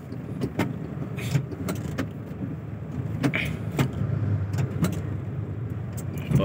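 Congested road traffic in Dasmariñas rumbles steadily nearby, a continuous engine drone with scattered clicks and knocks from vehicles and doors, some muffled voices mixed in.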